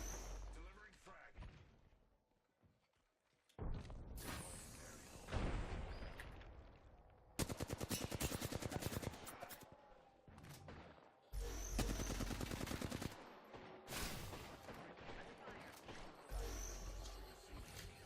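Video game gunfire from Apex Legends, several bursts of rapid automatic shots, loud and close, separated by quieter stretches, with players talking across the clip.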